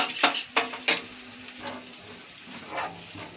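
Shankar fish frying with dried red chillies in not-yet-very-hot oil in a pan: a soft, low hiss, with a few sharp utensil clinks near the start and no talk.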